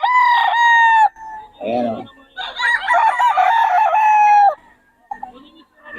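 Several roosters crow loudly one after another at a market in Bocaue, long ringing cock-a-doodle-doos overlapping with brief clucking and farmyard noise between calls.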